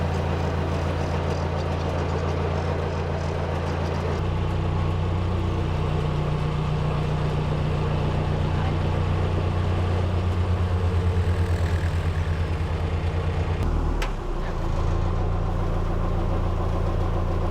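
A narrowboat's diesel engine chugs steadily as it passes along a river, a loud low rumble with a regular thumping beat, close by, with a brief dip in level near the end.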